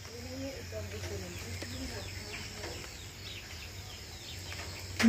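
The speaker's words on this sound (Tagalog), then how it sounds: "Daming ibon pag umaga." Birds chirp and call in a rural morning yard, mixed with rooster or chicken sounds and a steady insect drone, moderately loud throughout, ending with a brief louder sound.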